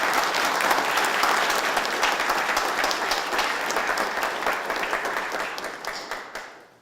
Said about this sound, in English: If we could have a round of applause for our partner organization.